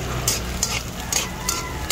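Aromatics with spring onion sauté in a pan for beef with ampalaya, a steady close sizzle broken by about five sharp scraping stirs at a loose, uneven pace.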